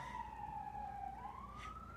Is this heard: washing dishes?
no